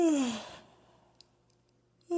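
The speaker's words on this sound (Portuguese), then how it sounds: "Bocejo longo." A long yawn glides downward in pitch, starting loud and fading into a soft breathy exhale, followed by quiet and a brief sharp onset at the end.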